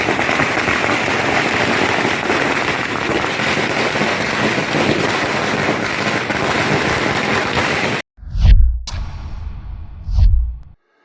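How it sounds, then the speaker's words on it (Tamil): Firecrackers bursting near a traffic signal at an election victory celebration, a long dense crackling barrage that stops abruptly, followed by a few single loud pops. "INTUC மாநில தலைவர் பாலாஜி தலைமையில் அஜந்தா சிக்னல் அருகே பட்டாசு வெடித்து இனிப்புகள் வழங்கி கொண்டாடினர்"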